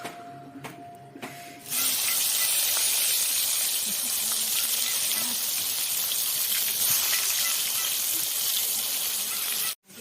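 Fish rubbed with turmeric and salt frying in oil, a loud, dense hiss that bursts in after a couple of seconds of light clinks and holds steady before cutting off abruptly near the end.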